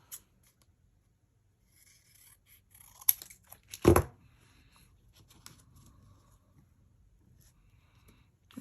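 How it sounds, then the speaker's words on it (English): Scissors snip paper while a scrapbook page is trimmed, a few quiet close cuts with one louder crisp snip in the middle, set among soft paper rustles and near silence. "let me just cut a little off."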